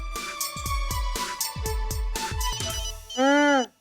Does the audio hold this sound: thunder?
no